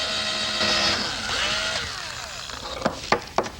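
A drill working on a model radio-control airplane fuselage whines and winds down, followed by a few light knocks and taps close by.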